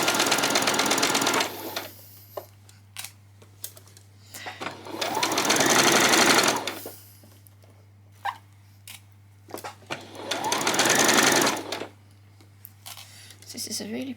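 A sewing machine stitches a peasant skirt in three loud, sustained bursts of rapid mechanical whirring, separated by pauses with brief clicks and someone talking.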